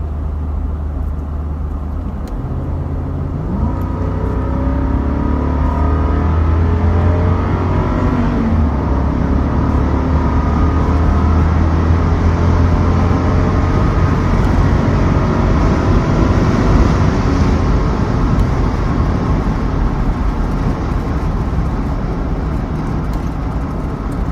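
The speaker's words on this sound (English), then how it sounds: "So I'm going to put it into Sport Plus and floor it again." A Lexus LX570 with its 5.7-litre V8 is floored in Sport Plus on a road in Kenya, giving a loud, sustained engine roar that climbs through the revs with gear changes, heard from inside the vehicle.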